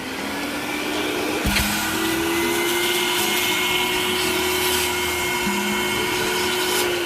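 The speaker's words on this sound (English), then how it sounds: "I'm just going to activate the vacuum portion right now because what I want to do is just suck all that junk out." A vacuum cleaner sucks loose debris out of a dirty car interior, a loud steady whine running throughout, with a brief thump and a pitch shift as the nozzle catches junk, no talk.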